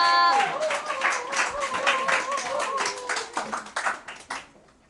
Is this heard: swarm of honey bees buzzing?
no